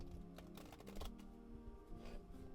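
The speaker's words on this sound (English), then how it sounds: "we'll do a quick little riffle shuffle" A quick riffle shuffle of an oracle card deck, with a burst of rapid fluttering clicks followed by softer tapping and handling of the deck, fairly quiet and close.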